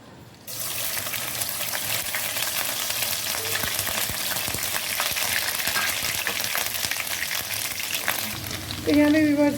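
Ginger garlic paste, freshly pounded, sizzles and fries steadily in hot ghee for a chicken masala kabab korma, a continuous close crackle with a brief stir near the end.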